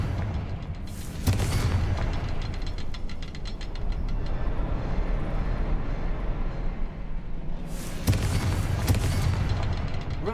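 Confringo fire spell blast in Hogwarts Legacy, two loud explosive bursts several seconds apart over a continuous deep rumbling game backdrop.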